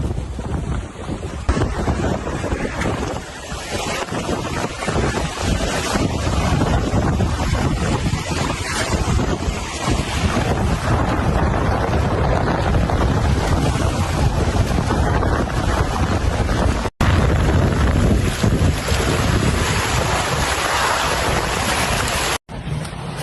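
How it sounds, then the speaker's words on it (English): Strong wind of about 25 knots, gusting 30, roars continuously over a rising sea aboard a sailboat on an ocean passage, with steady rushing and buffeting noise and no pauses. "Wind strengthened maybe 25 knots now, gusting 30. And with that, the sea's picked up."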